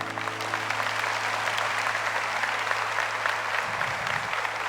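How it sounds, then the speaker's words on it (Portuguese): A church congregation applauds a Catholic beside them during a priest's sermon, a dense, steady wash of clapping from many hands that fills the whole stretch, with a low hum beneath. "Aplauda esse católico que está aí do seu lado"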